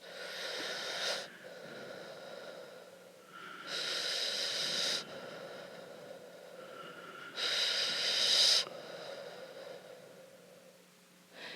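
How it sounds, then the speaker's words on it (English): Slow, deliberate breathing exercise: three long, loud, close breaths with quiet pauses between, each a broad airy rush, with faint rustle in the background. "Three breaths to the nose, 3 breaths to the mouth."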